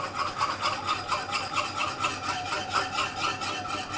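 A spoon stirs steadily through red wine gravy as flour goes in, making a rhythmic scraping and swishing against the pot at close range, with no voices.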